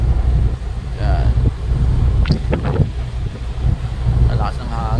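Strong wind buffets a ship high above the water, a steady loud roar with gusty microphone rumble throughout, while a voice talks over it in short bursts.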